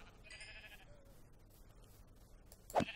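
A Minecraft sheep gives a couple of short bleats, faint and game-like, over a quiet background.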